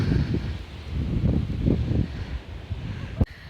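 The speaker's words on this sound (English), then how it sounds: "Plus it was like super windy, and I didn't want to get like blown off." Strong wind buffeting a microphone on an Appalachian Trail mountain outlook, low rumbling gusts in uneven surges that ease toward the end, ending with a sharp knock.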